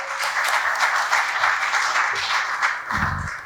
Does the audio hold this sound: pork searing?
no